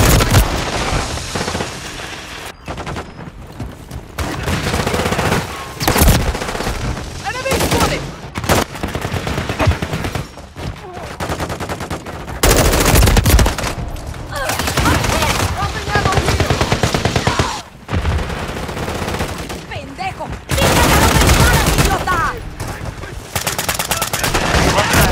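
Call of Duty MW3 gunfire during a Halloween update match: loud, near bursts of automatic weapon fire in rapid sustained volleys with brief lulls, continuing through most of the stretch.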